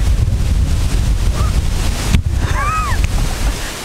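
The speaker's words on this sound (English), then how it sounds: "It's pretty windy outside and the storm is coming" Strong, steady wind before a hurricane, Hurricane Irma, roars and buffets the microphone, with low rumbling gusts throughout and a brief high whistling tone near the end.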